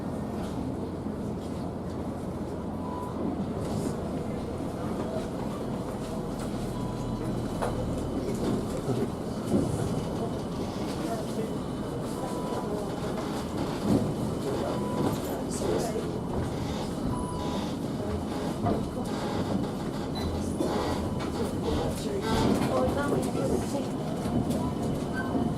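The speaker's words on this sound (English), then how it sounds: "This tram is about to depart." A Birmingham Metro tram pulls away and runs along its line, a steady low rumble and rattle filling the whole span with occasional clicks and creaks, while onboard announcements can be heard over it.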